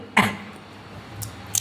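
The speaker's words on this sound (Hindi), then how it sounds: "जब भी समझाते हो खांसी आ जाती है" A woman's single cough, close and fairly loud, followed by quiet room noise and a faint second throat sound near the end.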